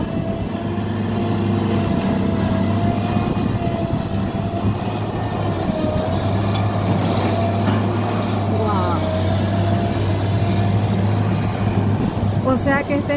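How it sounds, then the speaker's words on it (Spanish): Heavy machinery crushing a car at a recycling yard, a continuous loud low mechanical rumble with grinding and metallic creaks, ending in a few sharp metal squeals; a voice speaks briefly over it. "Otro carro que va aplastado."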